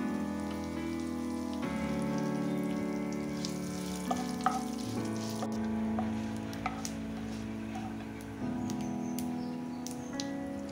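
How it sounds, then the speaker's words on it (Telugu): Curry leaves dropped into hot oil with tempering spices for a brinjal curry, crackling and spitting in a steady sizzle with sharp pops scattered through, alongside a sustained tonal hum. "పోపు దినుసులు కాస్త ఫ్రై అయిన తర్వాత ఇప్పుడు మనం కరివేపాకు వేసుకుందాం."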